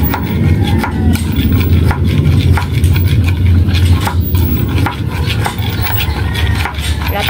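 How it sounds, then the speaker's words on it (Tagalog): Repeated scraping and knocking of a utensil stirring Century Tuna lumpia filling in a bowl, a steady close rhythm of strokes for several seconds with no talk. "At haluin na po natin."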